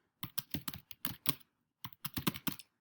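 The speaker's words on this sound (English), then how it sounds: "I'm typing." Keys clatter on a computer keyboard in two quick bursts of tapping separated by a short pause, close and fairly quiet with no voices.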